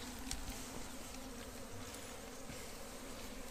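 Italian honeybees buzz at a hive in a steady, dense drone, a constant close hum that fills the background with no speech.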